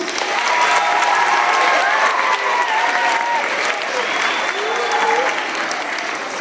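An afternoon audience applauds a third grade class, steady dense clapping filling the room with a few voices and faint cheers mixed in, loud and continuous throughout.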